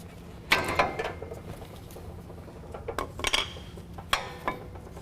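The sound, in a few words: brake pads being removed from truck brake caliper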